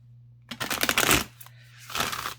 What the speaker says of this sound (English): Shuffle these a little bit here.